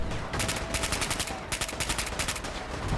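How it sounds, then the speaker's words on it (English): Rapid gunfire bursts and grenade blasts during a Fallout 4 firefight, loud clustered shots in repeated volleys against a constant roar of combat with no voices. "I'm gonna shoot."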